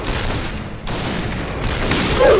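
Rapid bursts of gunfire crackle from the online shooter Point Blank, loud, close and dense, building slightly toward the end with a faint mechanical sound.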